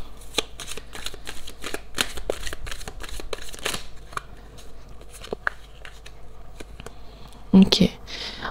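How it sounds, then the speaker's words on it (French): Tarot cards are shuffled and one is drawn, a close run of crisp riffling flicks and soft slaps at a table, ending in a few sharper card snaps. "Laissez-moi juste tirer une carte."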